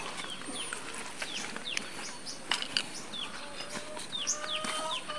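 Chickens inside a backyard coop, with scattered clucks and chirpy bird calls at moderate distance over a steady ambient hiss, no talking.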